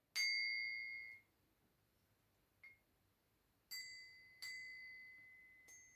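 A bronze bell is struck several times, each strike giving a clear high ringing tone that fades, with one soft tap between the louder hits.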